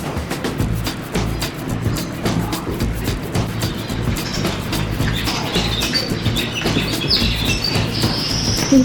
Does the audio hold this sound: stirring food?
no